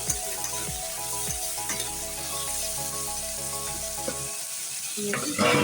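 Vegetables for vegetarian chow mein, salted, sizzle loudly in a pan while being stirred, with repeated scraping strokes and a low hum under the frying, briefly dropping off before a louder burst near the end.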